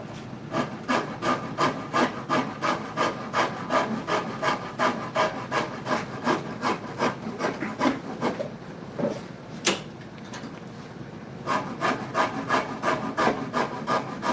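A rasp files back and forth across a wooden shoe heel during carving, a steady run of close, rhythmic scraping strokes with a short pause near the middle before the strokes resume.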